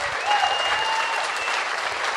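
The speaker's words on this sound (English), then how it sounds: "Weren't you clapping, sir?" Audience applause at a live show, a steady wash of clapping from a crowd at moderate distance lasting a couple of seconds without talk.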